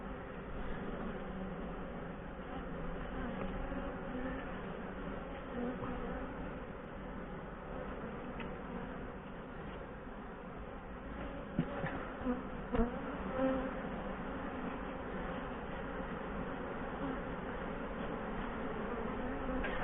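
A steady, dense hum of many honeybees buzzing at a beehive where a queen bee has newly been moved in, continuous and fairly close, with a few brief knocks partway through.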